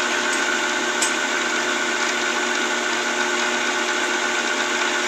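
Bullet swaging die spinning in a lathe spindle while being polished, a continuous steady mechanical drone with a faint metallic whine, close and unbroken.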